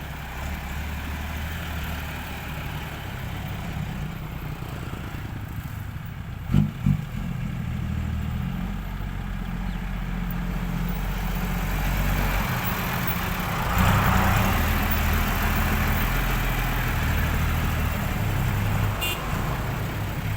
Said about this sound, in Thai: เดก้าสีชมพู สุดหล่อมาแล้วครับ